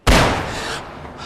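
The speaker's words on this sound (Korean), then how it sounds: "갑작스런 총소리에 불안한 마음이 커집니다." A single sharp, loud gunshot in a horror film cracks out suddenly, followed by a short rumbling echo that fades away.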